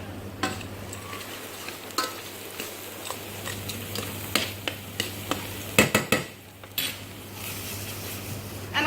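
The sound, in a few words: garlic added and tossed in frying pan for beef stroganoff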